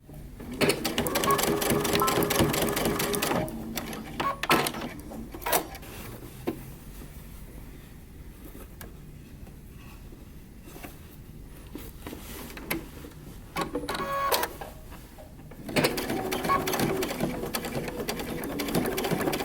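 A home sewing machine stitches the shoulder carriers of a moto jacket in two loud rapid runs at the start and end, with quieter handling and a few short bursts between.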